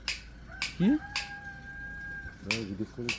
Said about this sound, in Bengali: কিসের ডাক এটা? মোরগ।